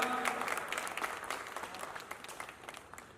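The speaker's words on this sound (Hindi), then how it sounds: "एक बार उनके लिए जोरदार तालियां" Steady applause from many hands at a Hindi poetry recital in Dahisar, dense and lively at first, then gradually thinning and fading over a few seconds.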